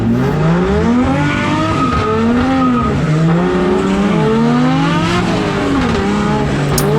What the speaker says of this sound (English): Had a bit of a clutch slip there.